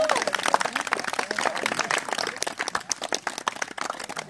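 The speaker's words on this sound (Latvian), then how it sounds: "Un ar aplausiem sveicam visus konkursa dalībniekus." An audience at the Kurmene village talent festival applauds the contest participants with dense, energetic hand clapping. The clapping is close and sustained for over four seconds, with small swells in loudness.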